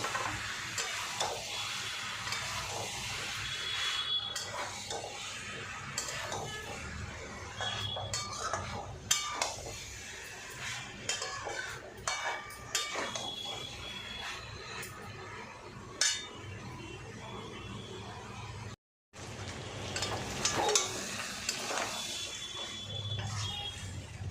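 A spoon scrapes and clinks against a pan as boiled goat liver is stirred into spices frying in oil, the clatter steady and close over a soft sizzle, with one brief dropout near the end.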